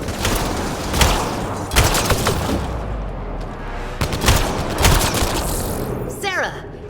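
Gunfire in the video game Mass Effect Andromeda, dense volleys of shots and booms cracking over a continuous battle din, loud and close with bursts clustering every second or so.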